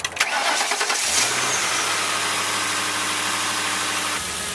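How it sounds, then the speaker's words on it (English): A car engine cranks briefly and catches, then settles into a steady idle, loud and close throughout with no talking. "But it's still cranking and starting right now."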